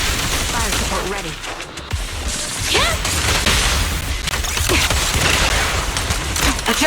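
Dense, sustained gunfire fills a fire-support sequence in the video game Zenless Zone Zero, with rapid shots and booms layered over game music and effects, loud and continuous with voice-like sounds mixed in.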